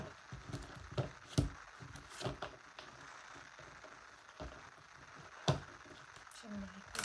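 Soft, irregular papery slaps and riffles of tarot cards being shuffled, quiet and close, with scattered sharper taps.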